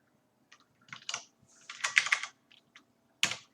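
A cat treads across a computer keyboard, setting off soft, irregular clusters of key clicks in short bursts with pauses between, close and fairly quiet, no voices.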